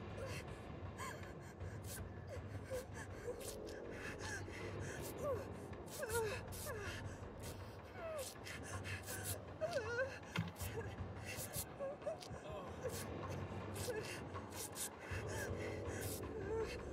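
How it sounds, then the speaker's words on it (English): Deep breathing through the nose from the video game Dead by Daylight, a faint repeated rasping inhale-exhale pattern under game ambience with scattered clicks and thumps. "Now I can hear deep breathing through the nose."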